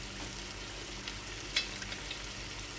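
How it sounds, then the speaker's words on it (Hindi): Chicken malai tikka cooking covered in a pan over a very low flame: a soft, steady sizzle and faint frying crackle with one small tap, quiet and constant, no voices. "मैं इसमें हाफ हाफ करके ऐड करूँगा और इसको बिल्कुल स्लो आंच पे पकाते हैं। ऊपर से इसको कवर कर देते हैं।"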